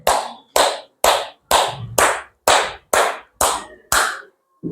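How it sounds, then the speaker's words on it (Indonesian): Students in a classroom clap in unison, about nine sharp, evenly spaced claps in a steady rhythm, loud and close, with no talk over them. "Tepuk tangan yang jawab 3 ya."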